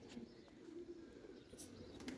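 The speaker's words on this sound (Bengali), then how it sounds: "এগুলো ওল্ড ব্লাডের কবুতর" Old-bloodline pigeons coo softly in short, low, murmuring phrases against a faint, quiet background, with a small flutter or rustle partway through.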